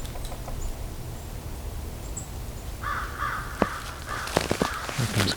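American crows caw outdoors during a winter bird count, several harsh calls in a loose series over the second half, fairly near against faint background noise.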